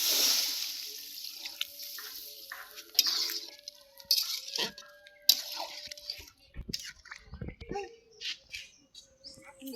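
Water is poured into a cooking pan of well-sautéed fish curry base, a brief splashing gush followed by bubbling and scattered clinks, fairly faint, with a bird chirping in the background.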